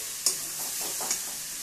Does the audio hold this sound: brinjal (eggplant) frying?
yes